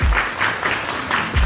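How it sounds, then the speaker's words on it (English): An audience applauds for Dame Dash at a Bronx event, a short burst of clapping that surges, dips briefly and swells again. "let's give a round of applause for Dame Dash,"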